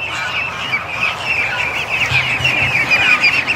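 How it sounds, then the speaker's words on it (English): Dense, continuous high chirping from a crowd of newly hatched ducklings and goslings packed inside a hatcher, a busy overlapping peeping chorus with no pauses, loud and close. "Listen to the little chirping."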